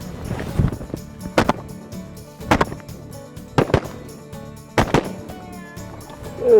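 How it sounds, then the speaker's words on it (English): Shotguns fire at ducks during a snowy, windy North Dakota waterfowl hunt, with four or five sharp, loud blasts spaced irregularly and close by. "Good shooting, boys."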